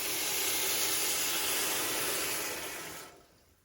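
Chicken stock pouring steadily from a 32-ounce carton into a pressure cooker pot, a loud close splashing rush lasting about three seconds before cutting off abruptly.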